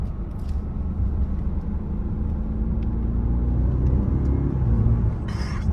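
An Audi car in sport mode rumbles with a deep, steady engine and road drone from inside the cabin, holding an even loudness with faint whirring and a few light clicks. No voices.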